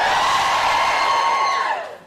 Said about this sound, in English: Can you give me a cheer if you're a student?